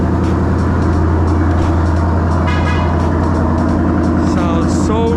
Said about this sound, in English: Yes, that's the MBRP catback exhaust for you.